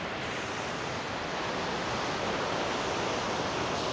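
The Tinago Falls waterfall in Biliran roars as a steady, dense rush of falling water, broad and unbroken, close and fairly loud, with no voices over it.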